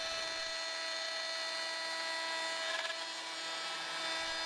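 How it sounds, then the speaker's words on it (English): Router with the bit bottomed out in the collet cutting wood for a chair leg, a loud steady high-pitched whine holding evenly throughout. "You aren't supposed to bottom out a router bit in the collet"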